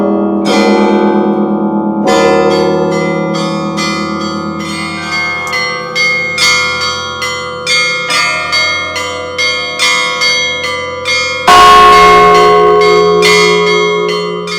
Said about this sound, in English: This is the building that I was on, where the bells were ringing